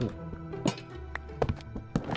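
A few short, hollow thunks spaced out in quick succession, like blocks being broken one after another: bookshelf blocks being dug out in a Minecraft-style modpack game.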